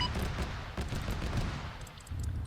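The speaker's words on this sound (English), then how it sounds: "So they're firing in this compound" Gunfire crackles inside a compound in the game Arma 3, a quick string of overlapping shots and bursts, fairly quiet and distant, with no talking.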